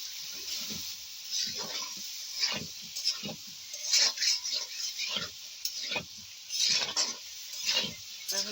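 Bottle gourd, tomato and potato are stirred and sautéed in a pan, with a soft continuous sizzle and rhythmic scraping strokes of a spatula, close and fairly quiet.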